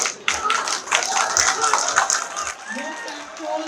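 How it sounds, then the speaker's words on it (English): Students at a university convocation in Kolkata applauding, with dense clapping that rises and then thins out, heard among hall voices and a little chatter. "Applause."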